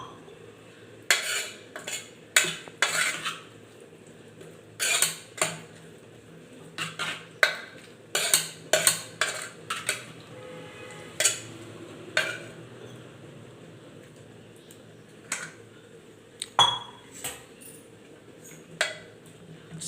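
A spoon clinks and scrapes against a bowl while a curd mixture is stirred, irregular metallic taps and knocks in uneven bursts, close and fairly crisp, with no talking.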